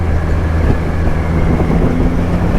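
A Triumph Rocket 3R motorcycle accelerating hard, giving a loud, continuous, deep engine roar that holds steady from start to finish, with no talking over it.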